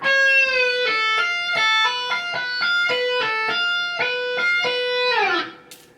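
Distorted electric guitar plays part of the solo after a bend is released: a quick run of clean-edged picked notes in a steady rhythm, ending in a brief squeal and fade, with no voice.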